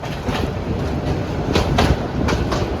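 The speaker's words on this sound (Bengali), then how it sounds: "চট্টগ্রাম থেকে এই লোকাল একটা ট্রেনে উঠে পড়েছি।" A local passenger train running from Chattogram toward Cox's Bazar, heard from inside as a steady loud rumble with rhythmic clickety-clack of wheels over rail joints.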